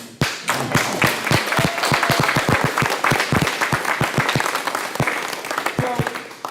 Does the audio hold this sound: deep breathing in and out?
no